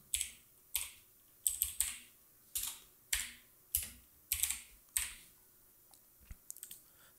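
Computer keyboard typing in a quiet room, a short word entered in a few quick bursts of sharp clicks with brief pauses, then a couple of softer taps at the end.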